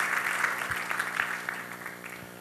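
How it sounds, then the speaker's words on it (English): Audience applause at a conference for a speaker, a steady wash of many hands clapping with some tonal hum underneath, moderately loud and continuous throughout. "A round of applause, please, for Dato Tim."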